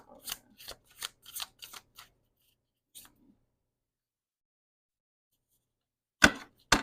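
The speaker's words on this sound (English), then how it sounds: "The way I'm shuffling this is insane right now." Quick rhythmic riffling and slapping of tarot cards shuffled close up, a burst of several snaps, a pause of silence, then a couple more sharp riffles.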